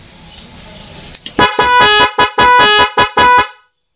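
An NHAY 3 Pro dual music horn on mode 3 blares a loud, rapid sequence of about nine short, sharp blasts close by, after a faint hiss.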